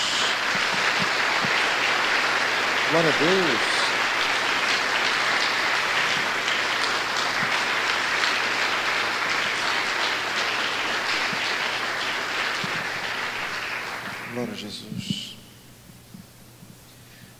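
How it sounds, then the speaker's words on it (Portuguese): A church congregation claps in a dense, steady roar that holds for most of the stretch before thinning out near the end, with a voice calling out briefly over it twice. "Dê uma salva de palmas a Jesus"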